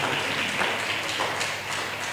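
A church congregation applauds the Lord with steady, dense clapping that keeps an even level throughout.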